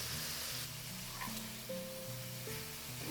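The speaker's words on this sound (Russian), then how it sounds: "Даю курице слегка подрумяниться," Chicken pieces fry in a pan with a steady soft sizzle throughout, heard under background music.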